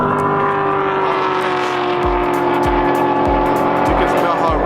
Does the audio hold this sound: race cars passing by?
yes